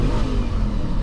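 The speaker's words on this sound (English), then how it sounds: "with that thumping V8 you've got pumping away under the bonnet there, the sound is just beautiful" A 2006 Audi S4 convertible's V8 engine growls steadily, a dense low-pitched rumble that holds for about a second with no talk over it.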